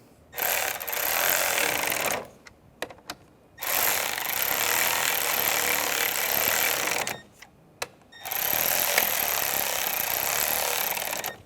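A power tool runs down screws on the clutch slave cylinder of a 2005-2010 Chevrolet Cobalt in three long, steady bursts, separated by short pauses with a few sharp clicks.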